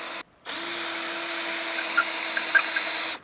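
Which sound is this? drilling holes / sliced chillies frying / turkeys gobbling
drilling holes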